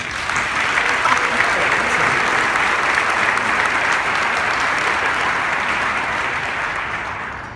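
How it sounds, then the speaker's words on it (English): A large crowd of parents at a class of 2019 graduation claps steadily and loudly for several seconds, the applause holding full and then easing slightly toward the end. "Parents, can you give your students a round of applause?"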